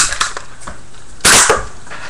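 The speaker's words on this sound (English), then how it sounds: "It shoots any type of dart" A Nerf Strikefire blaster fires a foam dart, making one sharp, loud snap that stands out from quieter clicks and handling noises nearby.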